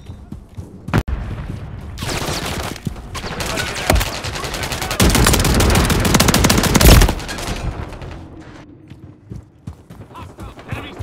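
Sustained automatic gunfire in Call of Duty Modern Warfare III multiplayer, dense rapid bursts building to a loud peak around the middle, with a few isolated shots before and fading clatter after.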